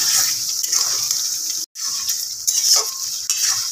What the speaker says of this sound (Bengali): মা মশলাটাকে ভালোভাবে মিক্স করে নিচ্ছে যতক্ষণ না তেল ছেড়ে আসে মশলা থেকে